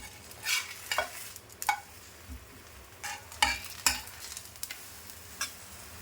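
Wheat flour malpua fry in a pan, with a soft continuous sizzle under a run of sharper scrapes and taps as they are turned and stirred. The sounds are close and fairly quiet, with no voices.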